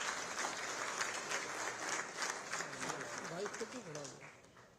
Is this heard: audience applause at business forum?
yes